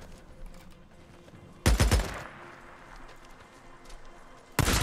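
Gunfire in the video game Days Gone: a loud, close burst of rapid shots around the middle, then quieter game ambience, and a second loud burst at the very end.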